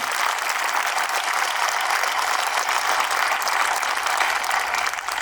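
An outdoor crowd at the grand reopening ceremony of Finlay Park in Columbia gives a loud, steady, close round of applause, many hands clapping evenly throughout without voices.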